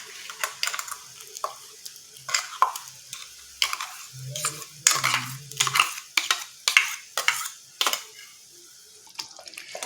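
A spoon stirs ground beetroot paste into boiling tamarind water for rasam, giving irregular scraping and sloshing bursts with a soft bubbling simmer underneath.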